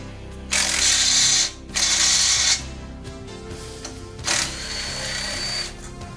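An impact wrench spins out the bolts on a hot rod's clutch pressure plate in three loud, close bursts of rattling hammering, each about a second long, with quieter shop noise between them.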